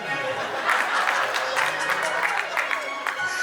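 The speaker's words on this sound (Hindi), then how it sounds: "ताली बजाना" Guests at a 25th anniversary kirtan clap together in a steady, fairly close burst of applause that holds evenly throughout, with some voices mingled in.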